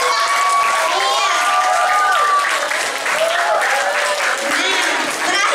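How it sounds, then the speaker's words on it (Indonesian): A school audience at a student council candidate debate claps loudly and continuously, dense applause with a few cheers mixed in. "Kasih tepuk tangan untuk paslon nomor urut 3 dan nomor urut 2."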